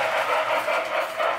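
Lionel O-27 toy train rolls over a Marx switch on a three-rail layout, with a continuous close rumble and soft rhythmic clatter of wheels on track.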